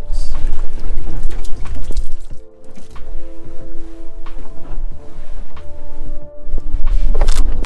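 Fresh water poured over a sediment core tube during Caribbean field sampling: a loud, steady close pour and splash, with a low rumble and faint tonal hum underneath throughout.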